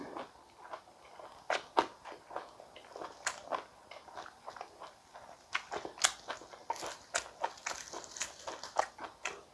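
Someone chews a tofu and chive rice wrap up close, with soft, irregular bites and crunchy mastication sounds that come quietly one after another.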